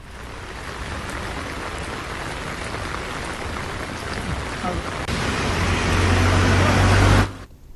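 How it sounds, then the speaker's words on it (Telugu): Steady rain pours down in Chennai, Tamil Nadu, as a cyclone approaches, a dense continuous hiss that swells louder near the end before cutting off abruptly. "తమిళనాడులోని చెన్నై సహా పలు ప్రాంతాల్లో వర్షాలు కురుస్తున్నాయి."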